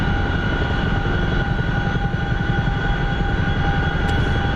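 A video game aircraft cruises at 170 knots, its engine a loud, steady drone with a constant propeller-like hum and tonal whine throughout, no voices.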